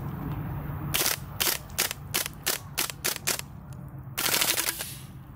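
A gas blowback airsoft PP-2000 firing full-auto magazine dumps with short magazines: loud, close rapid bursts of sharp cracks, a stuttering run of shots, a pause, then another quick burst, with no talk.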